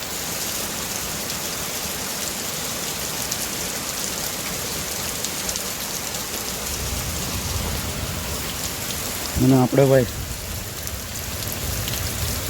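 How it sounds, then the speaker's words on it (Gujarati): Heavy rain pours steadily at night during a thunderstorm onto a tiled roof, a loud, dense, unbroken roar up close; someone speaks briefly near the end. "વરસાદ કાંઈ ઘટે નહીં ભાઈ. એક નંબર વરસાદ આવે."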